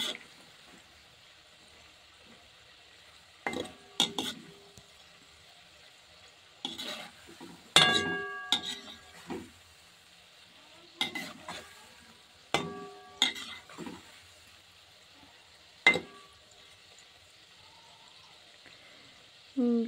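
Madan bhaja, a Bengali sweet, frying in hot oil on a gas stove, a steady soft sizzle broken by repeated scraping and clinking of a utensil against the pan.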